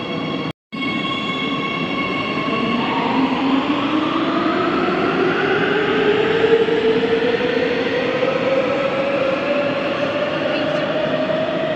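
A Warsaw metro train runs steadily, its electric motor whine rising in pitch as it accelerates over continuous rumbling wheels.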